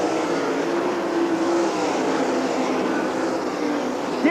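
Sprint cars racing around the Eldora Speedway dirt oval at a 1997 All Star Circuit of Champions event, a steady, loud blended engine roar from a distance that holds without break and rises slightly at the end.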